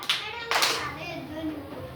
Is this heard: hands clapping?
yes